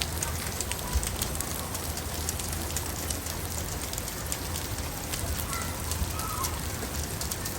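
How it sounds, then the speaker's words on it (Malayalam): Artificial rain from overhead pipes falls as a dense, steady hiss of spray and drops splashing onto the ground, continuous and fairly loud, with faint bird calls in the background. "അത്യാവശ്യം നല്ല രീതിയിൽ മഴ പെയ്തു കേട്ടോ."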